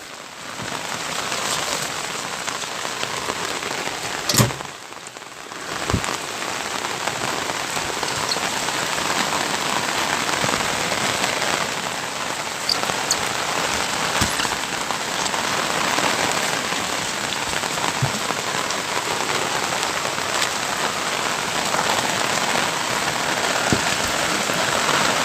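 Heavy monsoon rain drums steadily on a car during a drive, a dense, loud, unbroken hiss with occasional sharper knocks and drips.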